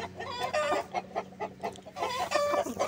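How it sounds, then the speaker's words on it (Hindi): A cross-bred Aseel rooster, an Amroha and Lasani cross, clucks in a steady series of short, throaty calls, fairly close, with a constant low hum underneath. "अमरा और लासानी क्रास मुर्गा"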